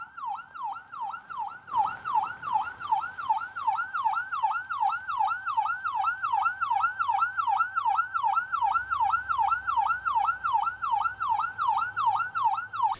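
A wailing siren cycles up and down in a steady, rapid rhythm, loud and close, near a gate operator with a siren-operated sensor on a farm, continuing throughout with a faint low rumble underneath.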